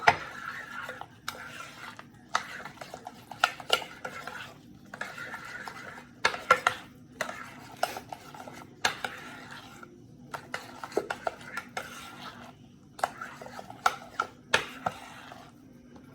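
Filling for pizza rustica, cheese and egg, being stirred in a bowl, heard as bursts of quick clinking and scraping of a utensil against the bowl separated by short pauses, close and clear with no talking.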